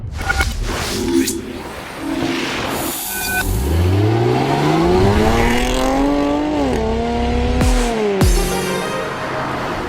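A supercharged Jaguar F-Type V6 accelerates hard, its engine note climbing steadily through the revs, pausing at a gear change, then rising again, loud and close.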